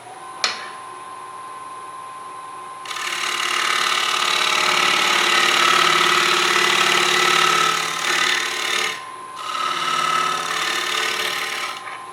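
A rough spalted tree log spinning and being cut on a wood lathe, a steady motor hum that swells into a loud, sustained cutting roar with a couple of short dips, close by.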